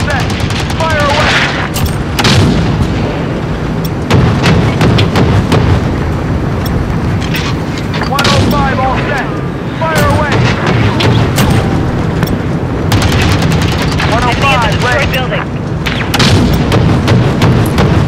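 Heavy cannon and automatic fire from an AC-130 gunship in a video game, with repeated deep booms and rattling bursts running steadily under radio chatter and a voice giving orders.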